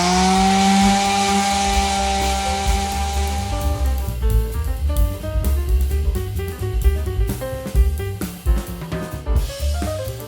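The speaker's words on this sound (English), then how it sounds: "I sand the surface, just to kind of scuff it up a little bit" A powered sander scuffs an acrylic-painted surface, starting as a steady tonal whine and breaking into uneven, rhythmic grinding pulses, close and fairly loud with no talk.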